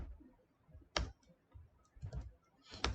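Quiet computer keyboard typing while entering code, with a few sparse, distinct key clicks spaced irregularly across a near-silent room.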